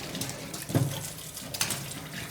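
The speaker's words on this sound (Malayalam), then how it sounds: "കൊള്ളി കഴുകുമ്പോൾ നോക്കിയാൽ മണ്ണ് പോ നോക്കിയേ" Tapioca roots being washed under running water from a tap, rinsing soil off; steady splashing water with a brief louder swish near the middle, close by and without talk.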